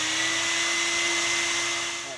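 Power drill spinning a dryer vent cleaning brush, a steady whining motor hum with a constant pitch, close and fairly loud, running alone before tailing off at the end.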